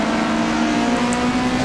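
Two-litre Renault Clio race cars at Donington Park drone loudly and steadily, engines held at high revs with a constant broadband roar throughout, no voices.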